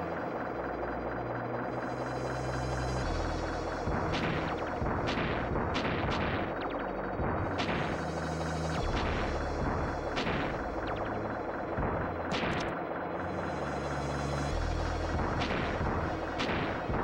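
Enemy shooting in the video game Plok, repeated sharp shot sounds popping at irregular intervals over continuous loud game music.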